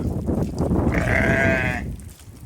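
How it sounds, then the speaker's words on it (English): A sheep or lamb on a small Welsh farm gives a single drawn-out bleat lasting about a second, close by, over faint background noise and rustling. "heads off with the lamb and ewe to bring them into the lambing sheds"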